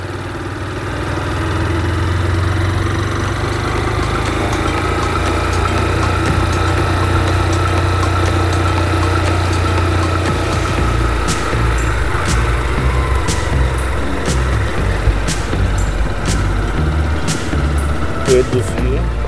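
A motorcycle engine runs steadily through a gear change during a riding lesson at a licensing test course, a loud continuous drone with a shift in pitch partway, while someone talks over it.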